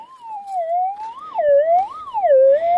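A metal detector's loud, clear tone warbles up and down in pitch at an abandoned gold mine, swelling repeatedly with a faint scrape partway through.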